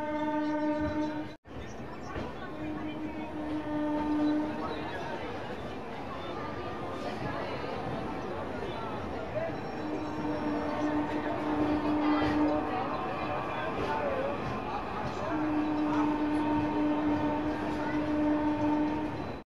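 The Amrit Bharat Express pulls into Raxaul Junction after its run from Darbhanga. Long horn blasts sound over a continuous rolling rumble and rail clatter, with a person talking throughout.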